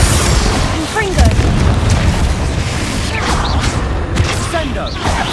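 Confringo fire spell blasts in the Hogwarts Legacy video game, a dense, loud rumble of booming explosions and combat effects running continuously under game voices and chirpy magical sound effects.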